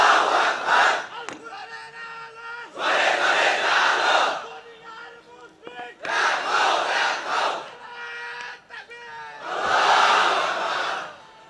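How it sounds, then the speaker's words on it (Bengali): A large crowd shouts takbir in loud, unified bursts, each roaring chant lasting a second or two and repeating with short pauses between, with scattered voices filling the gaps. "এই হলো তাকবীর।"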